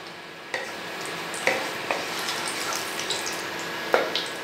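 Whole garam masala and a dried red chilli crackle and hiss in hot oil for a Bengali chingri kalia curry, a steady sizzle broken by a few sharp pops and spatters, close up with no voices.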